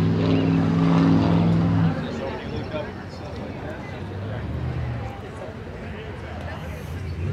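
A classic Pontiac GTO rumbles with a low, steady engine drone that fades as the car pulls away, its engine sound dropping off after a couple of seconds into outdoor crowd noise and voices at a car show in Gold Beach, Oregon.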